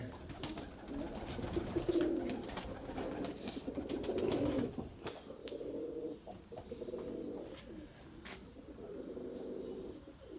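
Pigeons coo in soft, repeated low rolling calls nearby, with faint flutters and clicks mixed in. The calls come and go at a modest level, and no one speaks.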